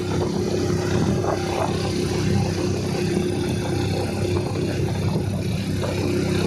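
Motorbike engine labors steadily up a hill road on the way to Ambaji, a continuous loud droning whir with rushing wind noise throughout, close and unbroken, no talking.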